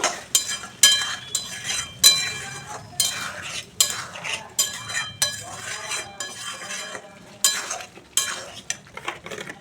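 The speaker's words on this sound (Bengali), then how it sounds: "ভালো করে সব কিছু একটু কষিয়ে নেব।" A spoon scrapes and clinks against a pan as khichuri ingredients with salt and a spoonful of sugar are stirred and sautéed, giving repeated close scraping strokes with brief metallic knocks and a faint sizzle.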